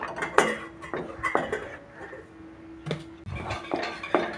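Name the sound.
stirring mango pulp in a pan for mamidi tandra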